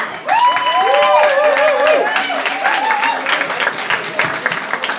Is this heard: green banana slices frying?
no